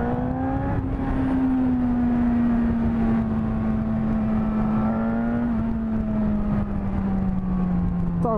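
A Suzuki GSX-S motorcycle engine pulls hard under acceleration, a loud steady drone rising gradually in pitch across several seconds with a brief shift partway, heard close and alone without talk.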